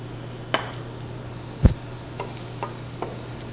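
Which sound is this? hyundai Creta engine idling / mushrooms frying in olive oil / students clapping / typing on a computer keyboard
mushrooms frying in olive oil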